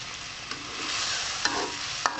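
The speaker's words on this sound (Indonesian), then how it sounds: "Kita aduk ya bumbunya sampai bumbunya ini matang ya" Spices stirred as they fry in a pan, with a steady broad sizzle throughout and three brief scraping clacks of the spoon against the pan spaced about half a second to a second apart.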